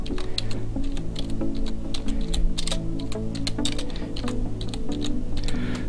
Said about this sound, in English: I click in the area and just type in